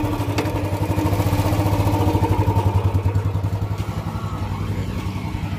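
A new Royal Enfield Bullet Standard 350 motorcycle runs close by with a steady, loud, evenly pulsing single-cylinder thump. Nothing else stands out.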